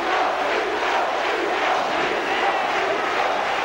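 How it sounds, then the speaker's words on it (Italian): A roaring basketball crowd at an Italian A2 game between Don Bosco Livorno and Montecatini erupts after a last-second basket, a dense, loud, continuous wall of cheering and shouting. "Scene di delirio collettivo, tifosi in visibilio, è un canestro impressionante."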